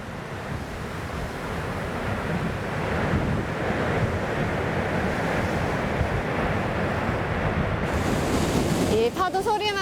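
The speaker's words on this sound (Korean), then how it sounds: "이 파도 소리만 들어도 마음이 정화되는 것 같아요." Ocean surf rolls onto the Tasmanian coast at Freycinet National Park, a continuous rushing wash of waves mixed with wind buffeting the microphone, ending with a brief chirp.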